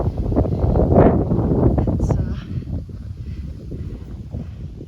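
Wind buffets the microphone on an exposed mountain top along the Appalachian Trail near Grayson Highlands, a loud, rumbling roar that surges and eases throughout, with a voice faintly under it.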